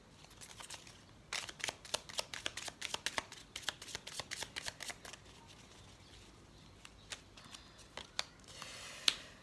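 Tarot cards shuffled and drawn from a deck, a rapid run of crisp close flicks and riffles that slows into a few scattered card snaps, ending with one sharper slap, with no talk.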